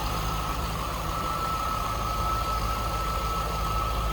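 A 2003 Chevrolet Corvette 50th Anniversary convertible's 5.7 liter GM V8 idles steadily nearby, a smooth constant low rumble with no talking.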